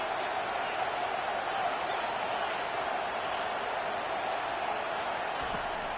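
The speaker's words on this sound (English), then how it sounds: "This crowd trying to make life miserable for this offense." A packed stadium crowd at a football game gives off a steady, dense roar that holds evenly from start to finish with no breaks.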